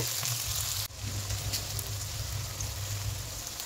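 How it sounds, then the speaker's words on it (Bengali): Chopped onion pieces sizzle and fry steadily in hot oil for a chicken curry, a dense continuous crackle with a brief dip near the start, close and even throughout, no talking. "কেটে রাখা পেঁয়াজের টুকরোগুলোকে তেলের মধ্যে দিয়ে ভালোভাবে ভেজে নেব যতক্ষণ না পেঁয়াজটা ব্রাউন হয়ে যাচ্ছে"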